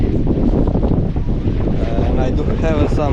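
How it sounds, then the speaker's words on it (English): Steady wind buffeting the microphone on a fishing jetty, a loud continuous rumble with faint water and surf beneath, with no clear talk. "It's kind of windy"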